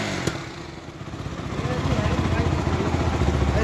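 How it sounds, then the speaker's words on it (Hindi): A KTM Duke 200 motorcycle starts up after a throttle body cleaning and settles into a steady, close idle. Its low, rapid, even engine pulse grows slightly louder over a few seconds. "देखो गाड़ी स्टार्ट हो गई एकदम जबरदस्त"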